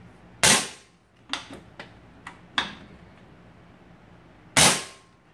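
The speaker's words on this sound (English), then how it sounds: "to fire the gun without the hammer in it, or without the hammer debouncing device" A Crosman Benjamin Marauder air rifle without a hammer debounce device fires two sharp, loud shots several seconds apart, with softer clicks and mechanical ticks from the action in between.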